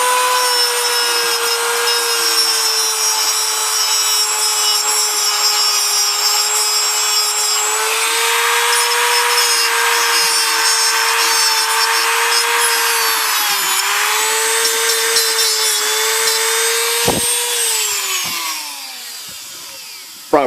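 A plastic welding rod is cut to a sharper tip with a steady, whining power-tool sound, continuous and close, its pitch dipping slightly near the end before it stops abruptly.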